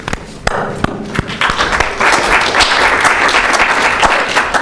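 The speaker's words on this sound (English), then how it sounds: "going to clap for all the caucuses" Audience at a student government meeting clapping for the caucuses, a few sharp isolated claps and knocks first, then swelling into steady, close group applause.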